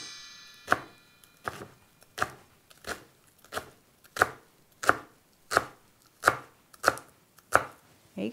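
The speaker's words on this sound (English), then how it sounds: "And then you're going to do thin ribbon slices. So just really thin." A knife slices tightly rolled basil leaves into thin ribbons on a cutting board, producing about eleven crisp, evenly spaced chops, close and clear, with no voices.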